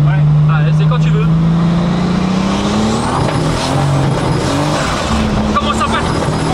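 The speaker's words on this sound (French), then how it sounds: "t'entends le turbo qui charge, hein, vraiment, t'entends l'admission, ça vit" A 500 hp first-generation Volkswagen Golf accelerates hard in third gear on a rough road, its engine note climbing steadily and loud up close, with a rising turbo whine, tire noise and scrubbing, and people talking over it.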